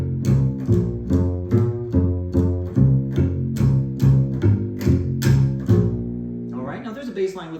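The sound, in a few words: walking bass line on bass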